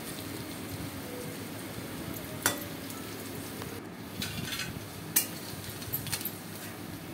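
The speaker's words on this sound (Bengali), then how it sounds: "এটা একটু আমি লালচে লালচে করে একটু ভাজা ভাজা করে নেব" Chana dal frying in a pan gives a steady soft sizzle, with a few sharp clinks or stirring scrapes standing out near the middle and toward the end.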